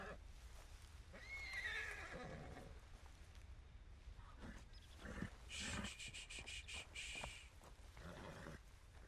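Horse in Red Dead Redemption 2 neighing, a shrill whinny early on followed by snorting and hoof movement amid outdoor game ambience, fairly quiet overall.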